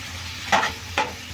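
Chicken frying in a pan, with an even close sizzle and two quick scraping stirs of a spoon against the pan.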